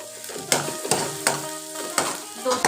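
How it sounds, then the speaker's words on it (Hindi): Chopped onions and small green chillies sautéing in a pan, a constant crackling sizzle punctuated by four or five spatula scrapes, close up, with no one speaking. "2 से 3 मिनट तक इसको मैं फ्राई कर लूँगी। प्याज और मिर्चों को मैंने सौते कर लिया है।"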